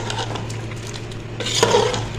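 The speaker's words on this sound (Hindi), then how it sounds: "पहले हम इसको मिक्स कर देते हैं।" Mutton, water and onions are stirred in a pressure cooker, a spoon scraping and clinking against the metal pot in a busy, close, continuous rhythm that gets louder near the end, with no voices.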